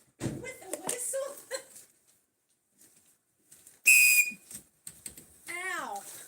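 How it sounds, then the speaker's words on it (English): Panic whistle blown once, a sudden piercing shrill blast lasting about half a second, loud and close, between stretches of people talking and laughing. "I just took it out of the box. I'm like, cool, whistle. What is it? One of those panic whistles?"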